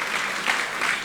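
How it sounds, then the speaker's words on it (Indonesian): A church congregation claps during a Sunday service, a brief, steady patter of applause at moderate distance with no voices over it. "Kalau 100 tepuk tangan."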